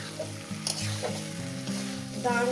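Snakehead fish and potato curry sautéing in a pan, with a loud, continuous sizzle of frying and the scrape of stirring, while faint tonal music plays underneath.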